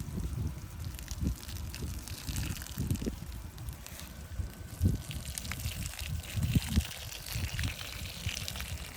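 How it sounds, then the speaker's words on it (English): Collected rainwater poured into a strawberry planter, a continuous close gurgling, splashing stream that runs steadily for about nine seconds with low bubbling surges and no talk. "the water that you guys saw me putting in was some rainwater that I collected"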